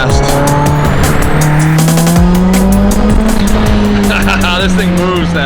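A Nissan Z accelerating hard, the engine note climbing steadily while the tires squeal sharply, loud and close with one brief shift in pitch partway through.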